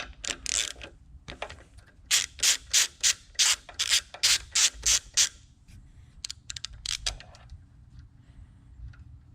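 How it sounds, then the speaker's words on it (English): A 12mm nut comes off an engine stud on the front of a 2023-2026 Honda hybrid motor, heard as about a dozen evenly spaced, close ratcheting rasps, followed by a few quieter clicks. "we're going to take this 12mm nut off"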